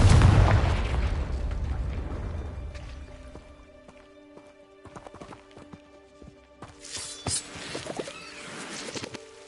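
Confringo blasting spell going off in Hogwarts Legacy, a loud booming burst at the start that fades away, followed by scattered sharp pops, clicks and crackling game effects.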